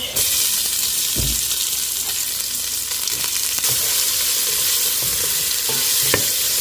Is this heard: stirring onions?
yes